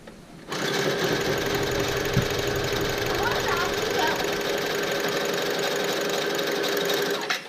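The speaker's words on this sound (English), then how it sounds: "So here we go with the second pass of double stitching." A sewing machine runs a second pass of double stitching on a seatbelt-buckle guitar strap, a loud, steady rapid mechanical chatter that starts abruptly and runs for about seven seconds before stopping.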